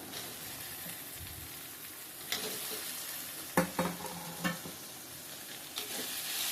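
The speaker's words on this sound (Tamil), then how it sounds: "இப்போ தக்காளி போடணும்." Tomatoes sizzle softly in a pan while being sautéed for a chicken gravy, with a steady low frying hiss broken by several sharp clinks and scrapes of a utensil stirring against the pan.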